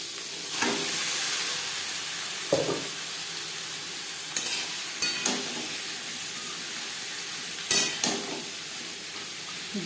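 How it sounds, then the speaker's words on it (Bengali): Pointed gourd frying in a pan with cumin and green chillies, a steady close sizzle with scattered sharp spatula clinks and scrapes. "জিরে কাঁচা লঙ্কা ভেজে নেওয়ার পর দিয়ে দেবো কাঁকরোল।"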